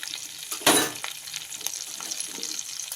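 Capsicum added to a pan of hot butter for veg paneer makhanwala: a sudden loud hiss as it hits the fat, settling into steady soft sizzling close by.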